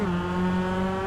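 MX-5 race cars in a racing video game throw into a hairpin at Motegi, a steady sustained engine note holding one pitch with a low rumbling drone beneath, loud and continuous without any talk.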